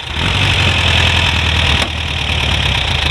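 A dune buggy engine idles steadily and loudly close by, a continuous mechanical drone with a brief click partway through.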